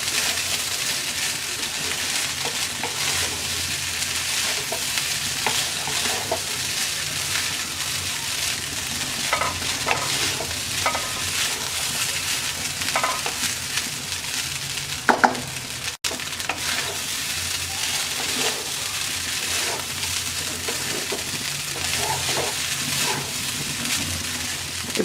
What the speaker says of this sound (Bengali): এবার আমরা আর 1 মিনিট নাড়াচাড়া করে নামিয়ে নেব